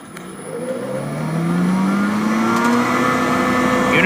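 A CS Bell Number 10 hammermill drive starts up and runs, its motor whine climbing steadily in pitch and loudness as it spins up, then holding a strong, even hum near by.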